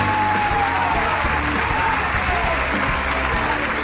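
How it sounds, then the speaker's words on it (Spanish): An audience claps steadily and densely at a live event, a continuous wash of applause with faint whoops in the background, evenly loud from start to finish. "¡Fuerte el aplauso!"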